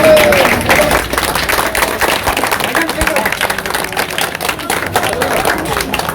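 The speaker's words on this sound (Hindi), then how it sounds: "जोरदार तालियों के साथ स्वागत करें राम सिंह का।" Loud crowd applause welcoming Ram Singh at an Independence Day (15 August) flag-hoisting event, steady dense clapping throughout with a voice briefly audible at the start.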